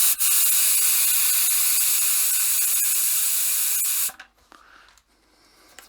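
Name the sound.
fermenter pressure relief valve venting gas, Keg King Apollo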